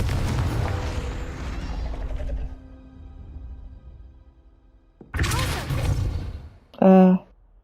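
Confringo fire spell explosions in Hogwarts Legacy: a loud burst with a decaying rumble, a second blast after a pause, then a short bright magical chime, all alone without talk.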